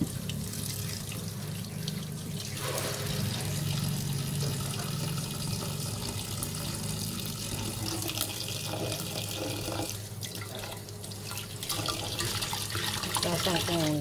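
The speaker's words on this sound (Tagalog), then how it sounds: "Lagyan ko na siya ng tubig." Tap water runs steadily into a pot while making paragis tea, a close, continuous splashing stream that lasts the whole stretch with little change in level.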